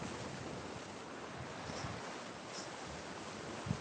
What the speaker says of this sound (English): Wow, these waves are pretty big.